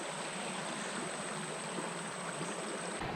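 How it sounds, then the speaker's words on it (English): Stream water flows steadily along a mixed-surface route near Tuskegee, Alabama, a close, even rushing sound without any talking. "I'm going to use that nice flowing water action to clean off my wheels"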